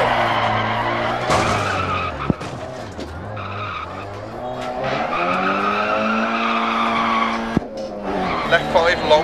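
A rally car in Dirt Rally skids through a handbrake turn, tyres squealing in long wavering tones over a revving engine, loud and close, while a co-driver calls pace notes over it.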